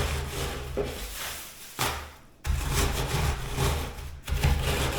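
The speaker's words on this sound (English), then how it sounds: "put them inside a plastic bag, get your rolling pin." Rough crunching and rolling scrapes come in bursts with crackling plastic, close and loud, pausing briefly between passes, as a rolling pin crushes biscuits inside a plastic bag into fine crumbs.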